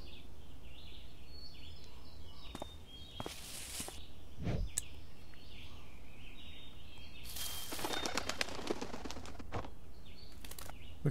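Birds call and flap their wings in the video game A Bird Story. Several short bursts of fluttering and chirps stand out over a steady soft ambient bed, close and fairly clear.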